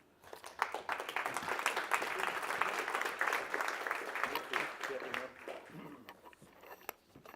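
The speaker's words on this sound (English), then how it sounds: "please join me in an applause for your president" A conference audience in Brussels applauding, a fairly distant, dense wash of clapping that swells quickly, holds for several seconds and then thins out toward the end.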